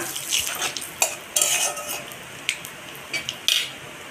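Cumin, bay leaf and dried chili are stirred in mustard oil in a pan, with a light sizzle under repeated scraping and clinking of a spatula against the metal, close and fairly loud with no voices.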